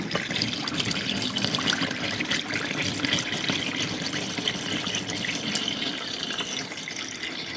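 Used engine oil drains from a BMW X5M into an oil pan during a DIY oil change, heard as a steady, close, continuous pouring trickle with no talk.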